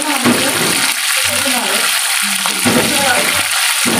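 Kachoris fry in hot oil, giving a continuous loud hiss and bubbling sizzle with small pops and clinks throughout.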